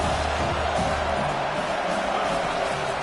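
A packed college football stadium crowd in Michigan roars steadily in a dense, continuous wall of noise, loud and sustained from start to finish.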